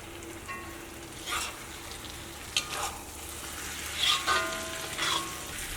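Egg frying and being stirred into a masala in a pan, with a soft steady sizzle and a few louder scraping stirs spread through, fairly quiet and with no talking.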